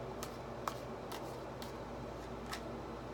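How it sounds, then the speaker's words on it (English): Tarot cards being shuffled by hand: quiet, soft riffling and a few light snaps over a steady low background hum, no speech. "You all watched me shuffle."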